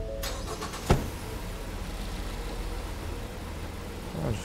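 A car engine is started during an ignition coil primary voltage test: a sharp crank burst, then a steady close idle that runs on evenly, with a slight rise near the end.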